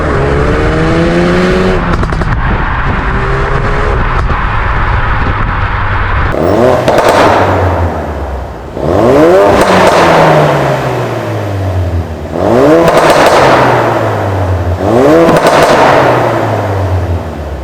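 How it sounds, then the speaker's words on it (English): A Ford Focus RS with stock exhaust revs hard several times, with rising and falling exhaust roars, pops and crackles between pulls, loud and close. "I really like the exhaust of this car, like stock."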